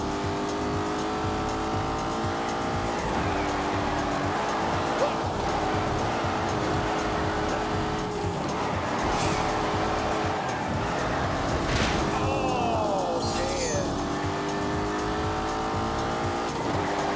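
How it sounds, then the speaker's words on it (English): In The Grand Tour video game, a car with a 4-litre twin-turbo V8 roars steadily at high revs while shifting in pitch, with tyre squeal and skidding over the engine and brief talk layered on top. "It's a 4-litre V8. It has twin turbos. It makes"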